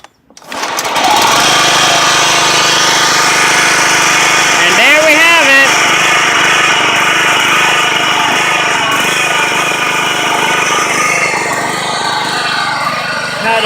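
A John Deere 14SE walk-behind lawn mower, just repaired, starts and runs at a loud, steady, high-revving buzz close by. It holds for over twelve seconds, with a brief warble partway through.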